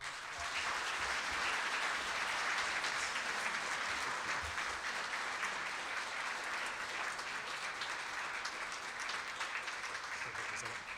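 A crowd at a Rotary meeting claps steadily, a dense, even roar of applause that holds at constant loudness throughout without a break.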